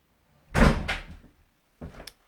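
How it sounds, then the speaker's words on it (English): A front door being shut at home, giving a strong low thud with a rattle and a shorter, softer knock a second later, close by with no talking. "Excuse my husband shutting the front door."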